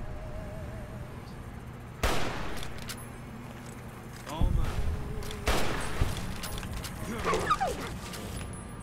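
Gunfire in the video game Fallout: New Vegas, with several loud sharp shots and bursts spread across the clip, mixed with game effects and someone talking over the action.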